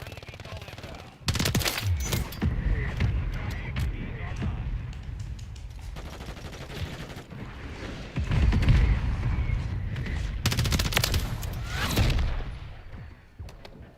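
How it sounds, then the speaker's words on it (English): Mortar strike explosions in Call of Duty Modern Warfare III: two heavy, loud blasts a few seconds apart, each with a broad rumbling tail, amid bursts of gunfire and battlefield noise. "Friendly mortar strike on the way"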